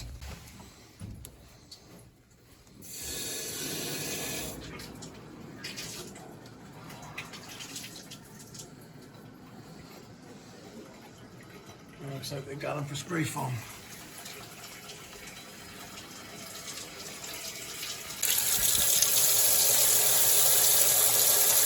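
Water rushes and hisses through the plumbing of a newly installed 50-gallon A.O. Smith gas water heater, growing into a loud steady spray from the first fixture toward the end, with someone speaking briefly over it.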